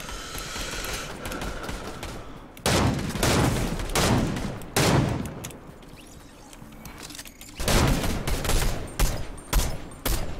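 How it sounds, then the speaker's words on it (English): Shotgun fire in a Fortnite firefight, with several loud bursts of gunfire and rapid overlapping shots, heavy clusters at intervals against a steady background of game noise. "Yo, I'm getting shot up from behind."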